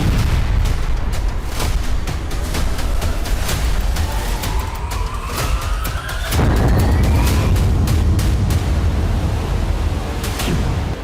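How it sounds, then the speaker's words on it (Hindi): Explosions from a Ukrainian drone strike on a port near the Kerch Bridge, a continuous loud roar of blasts with sharp bangs scattered through it, no speech. "यूक्रेनी ड्रोन से बंदरगाह पर कई धमाके हुए और भयंकर आग लग गई।"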